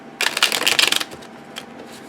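Riffle shuffle of a Russian-edition deck of soft, bendable playing cards: a dense, crisp rapid flutter of cards interleaving for about a second, then a brief quieter tap, close and clear with no talk.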